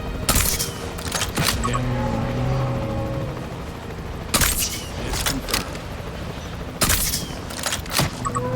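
Tranquilizer gunfire at dinosaurs in Jurassic World Evolution 3 comes in loud bursts of sharp shots, clustered into three volleys a few seconds apart, over a steady rumbling engine background.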